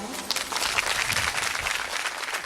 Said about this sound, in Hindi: ये जोरदार अपने लिए ताली बजाएं